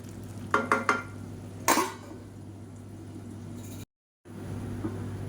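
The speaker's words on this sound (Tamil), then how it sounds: "நல்லா வதக்கிக்கலாம் அப்பப்போ கிளறி விட்டுக்கோங்க அடி பிடிக்காமல் இருக்கிறதுக்கு" Stirring in an oiled pan while sautéing a filling for a protein-rich dosa batter dish: a few clattering spoon scrapes early on over a steady low hum, then quieter sizzling, with a brief dropout near the end.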